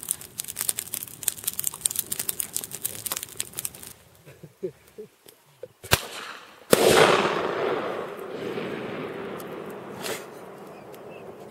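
Outdoors, a gun fires a 3-inch magnum shell. Scattered crackles and rustles come first, then a single sharp, loud blast rings out and fades over a long, echoing tail.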